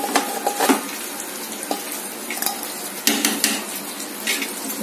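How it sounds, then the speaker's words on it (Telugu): Dishes and cutlery clink and scrape as chicken dum biryani is served into bowls, with scattered sharp taps and a soft stirring, scooping texture in a quiet home kitchen. "నేను సర్వ్ చేస్తాను బౌల్స్లోకి"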